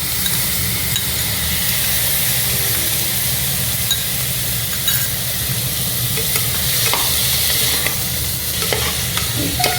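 Tomatoes sizzling in a hot pan while being stirred, a loud, continuous frying hiss with scraping and clinks from the spoon throughout, close up and with no talking.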